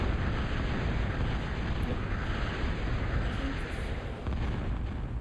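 Dense, continuous rumble of bombs exploding in Total Annihilation (Pro TA), a real-time strategy game, as bombers strike a moho; a loud, sustained wash of overlapping blasts with no clear pauses.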